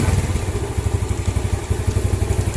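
A motorcycle engine starts and settles into a steady, even idle, a close, loud rhythmic chug with no one talking over it.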